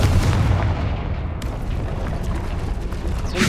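Confringo blasting spells explode in Hogwarts Legacy. A heavy boom opens, a sharp blast cracks about midway, and a rumbling roar follows to the end.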